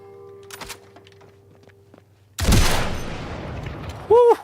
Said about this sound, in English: Gunshot heard.